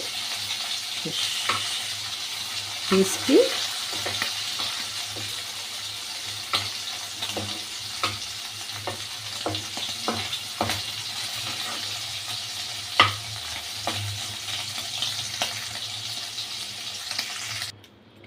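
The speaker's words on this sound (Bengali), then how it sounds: "এক পিঠ ভাজা হয়ে গেছে, এবার আর এক পিঠ করে দিচ্ছি" Steady crackling sizzle of fish frying in hot oil in a wok, with occasional clinks and scrapes of a utensil and a single brief spoken word.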